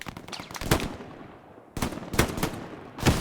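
Bursts of machine gun fire in a competitive tactical shooter match, several rapid volleys with a pause between, loud and close with no talking.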